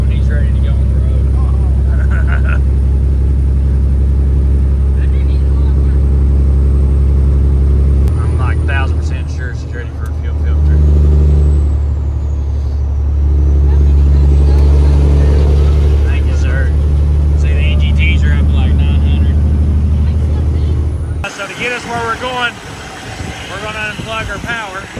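Loud, steady low rumble of a white Freightliner FLD burnout truck's diesel engine running up close for over twenty seconds, the pitch shifting midway before the drone cuts away near the end.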